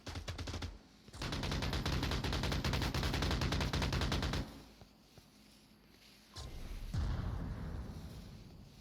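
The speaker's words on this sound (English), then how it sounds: "Put some return shots with the LMG." LMG machine gun fire in the VR game Onward: a long, loud, rapid sustained burst lasting several seconds, followed by quieter ambience and another loud rumble near the end.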